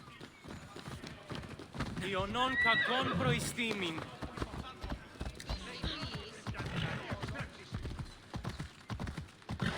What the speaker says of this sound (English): On my horse, get there faster.